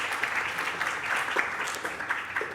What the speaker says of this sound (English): Yes, please give him an applause.